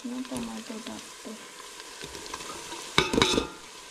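Browned onions frying in a pan for chicken dum biryani, a steady soft sizzle with stirring scrapes, then a brief louder clatter and splash of sizzle as tomatoes go in near the end.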